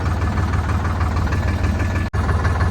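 A tractor engine drives a rotavator through a 540 RPM PTO, a loud, steady, close diesel drone that cuts out for an instant near the end.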